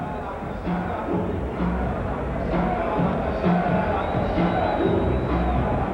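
Sellout crowd at an NBA basketball game between the Portland Trail Blazers and Sacramento Kings at the Arco Center, a steady roar of murmur and scattered cheers under a commentator's voice.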